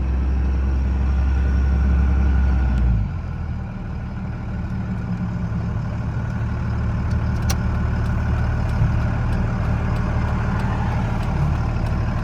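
A 2002 Cummins Ram diesel pickup with transmission problems pulls away from a stop, its engine droning loud and low before the pitch drops into a steadier, lower hum, heard close up from the cab.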